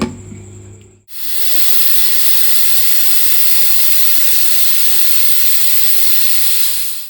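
A loud, steady steam hiss from a pressure cooker cooking dal bursts in after a second of quiet and continues unbroken, close and strong.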